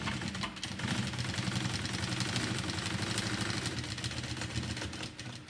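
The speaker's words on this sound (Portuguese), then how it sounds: "Então, vou começar a costurar aqui de baixo." Sewing machine running steadily while stitching a luxury bottle bag, a continuous close mechanical whir with a rapid needle rhythm and no talk.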